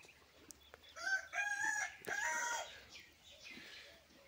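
A Nari breed rooster on a free-range poultry farm crows loudly and close by, two drawn-out calls in quick succession over faint background clucking.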